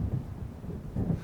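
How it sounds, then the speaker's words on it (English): Thunder from an approaching storm in the video game Alan Wake: a low, continuous rumble that swells and rolls for about a second, moderately loud, with no voices. "It seems there's a storm coming."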